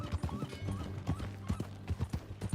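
Horse hooves in Red Dead Redemption 2, a steady clip-clop of hoofbeats at a walking rhythm, close and fairly loud, with a brief whinny-like tone mixed in.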